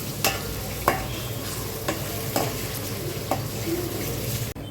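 Chopped tomatoes fry in a pan for chicken biryani. A steady sizzle carries on throughout, broken by several sharp knocks and scrapes of a spoon stirring against the pan.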